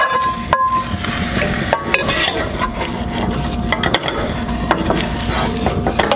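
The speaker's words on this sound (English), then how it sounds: "We're just gonna let this simmer till we're ready to eat it, and we'll just stir it occasionally." A breakfast hash of potatoes simmers and sizzles steadily in a pan while a utensil stirs and scrapes, clinking against the pan now and then, loud and close.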